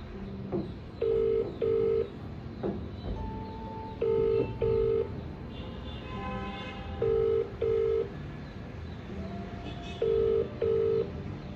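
Outgoing phone call going unanswered: repeated paired ringback tones sound in regular bursts, separated by pauses, over faint background noise, with some other short tones mixed in.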